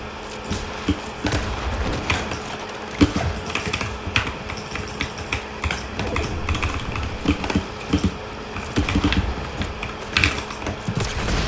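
Rapid clicky typing on a new computer keyboard, with irregular bursts of sharp keystrokes and occasional heavier key thumps, close and continuous for over ten seconds with no talking.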